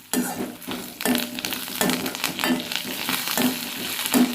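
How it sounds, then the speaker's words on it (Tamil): Curry leaves going into hot oil for gooseberry chutney give a steady, close sizzle and spatter, broken by regular stirring scrapes every second or so, with no voice over it. "கொஞ்சம் கருவேப்பிலை சேர்த்து போகிறோம்"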